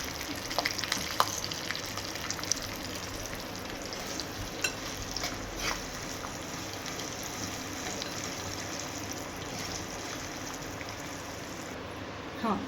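Fenugreek seeds fry in a hot pan while tamarind rice is prepared, giving a steady, soft crackling sizzle that runs throughout at low volume, with faint stirring.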